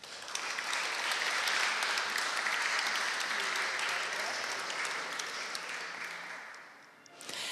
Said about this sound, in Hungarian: És nagy tapsot kérnénk még egyszer Gregus Tamásnak, Almádi Péternek, Almádi Csa